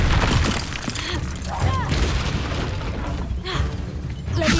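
In Hogwarts Legacy, the Incendio fire spell goes off as a series of booming, crackling bursts amid battle effects. Voices are heard over the blasts.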